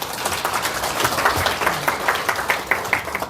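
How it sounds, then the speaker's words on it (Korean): An audience at a spring seniors' camp gospel session claps steadily together, a dense, fairly loud patter with regular rhythmic accents running for a few seconds with no talking. "네, 박수 한번 쳐요."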